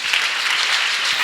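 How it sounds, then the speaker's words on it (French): Church congregation applauding at a Sunday school service, a dense, loud, steady wash of clapping filling the whole short moment. "Donnons une acclamation au Seigneur."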